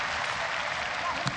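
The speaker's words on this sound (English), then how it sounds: "Every time Tiffany Teo gives them a sniff of something, this crowd responds." A stadium crowd at a ONE Championship MMA fight bursts into applause and cheering, a dense, sustained roar of clapping with a brief louder swell near the end.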